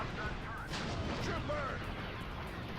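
Rebel snipers firing in Star Wars Battlefront II, heard as sharp blaster shots and cracks within dense, noisy battle ambience, with a few distinct hits over a couple of seconds.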